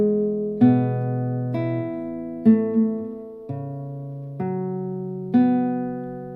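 A guitar picks out one bar of a piece, about seven clear plucked notes and chord tones spaced roughly a second apart, each ringing and decaying, close and alone.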